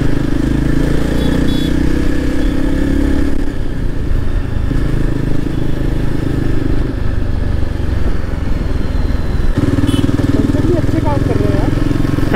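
A Yezdi Adventure motorcycle being ridden, its engine a steady close-up drone with throttle shifts and passing wind rumble throughout, a few faint voices in the background.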